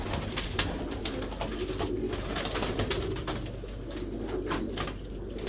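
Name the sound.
pigeon cooing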